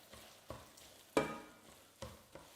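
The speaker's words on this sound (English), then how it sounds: "we add the basil. Give that a stir." Basil being stirred in a hot pan, soft scraping strokes at a steady rhythm with one louder clatter, over a faint sizzle, quiet and close.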